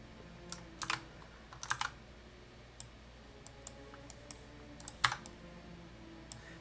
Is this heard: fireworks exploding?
no